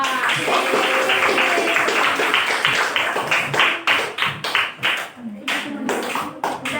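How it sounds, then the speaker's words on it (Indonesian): A classroom group claps for a presenting student group: dense, steady applause from many hands that thins into scattered individual claps toward the end. "Kasih aplaus buat kelompok 4."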